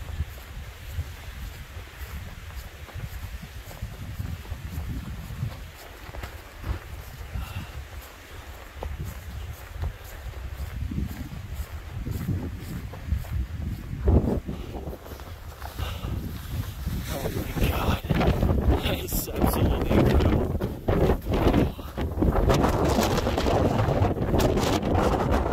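Strong wind near a snowy mountain summit at about 12,000 feet roars continuously as gusts buffet the microphone, building louder and rougher toward the end.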